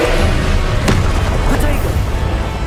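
Loud, continuous rumbling blasts of the Confringo spell in Hogwarts Legacy, with a sharp explosive crack partway through and a dense, booming roar from start to finish.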